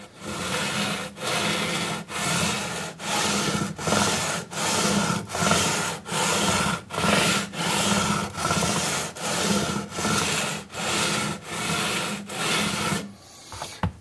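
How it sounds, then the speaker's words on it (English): Sandpaper rubbed lightly back and forth across guitar frets during fret levelling, a steady rhythm of about fourteen even, close scratchy strokes with brief pauses between them. "I'm going to go with the sandpaper now."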